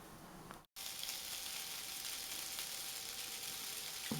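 Bratwursts browning on a Cobb barbecue, a steady soft hiss of sizzling fat that runs continuously after a brief cut, quiet and even with no talk.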